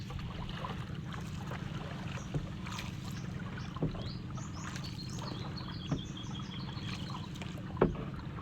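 Oars dip and splash at a slow, irregular pace as a small boat is rowed over deep, choppy water with strong waves and wind noise, with faint bird chirps in the background.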